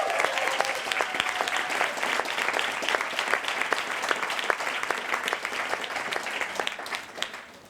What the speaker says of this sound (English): that's worth another applause.